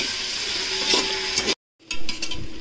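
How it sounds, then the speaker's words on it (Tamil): Ground masala and chilli powder being stirred into vegetables cooking in a pan, a steady sizzle with scraping stirs, briefly cut to silence before the sizzling and stirring resume. "அந்த மசாலா எல்லாத்தையும் இதோட சேர்த்து நம்ம கலரிக்க போகிறோம்"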